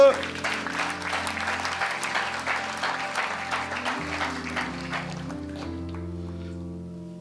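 A church congregation claps together in steady, dense applause during a Sunday service, rising straight away and thinning toward the end, with sustained organ or keyboard chords ringing beneath it.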